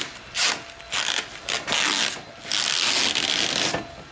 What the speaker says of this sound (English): you just need to spend a minute and peel off the protective coating